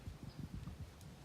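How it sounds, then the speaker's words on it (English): A donkey passes close by, its hooves making a steady, rhythmic clip-clop of low thuds over a constant outdoor rumble. "There goes the donkey."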